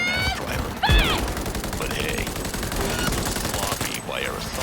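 Gunfire in the video game Cyberpunk 2077: a loud, dense burst of shots with one sharp heavy report near the start, over a busy mix of game sounds and voices.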